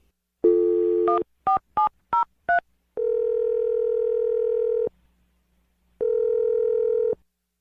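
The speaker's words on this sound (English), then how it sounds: "I'm going to dial the number right now." A telephone number is dialed on a phone line: a series of short push-button tones in quick succession, then a long steady tone, a pause, and another long tone, loud and clean with no talking.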